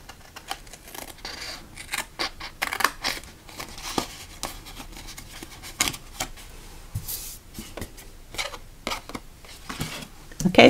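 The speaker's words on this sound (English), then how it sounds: "You're going to cut your V out and over here." Scissors snipping a V shape out of cardstock for a shoebox gift card holder, with a run of short, close, irregular cuts and paper rustling over about ten seconds.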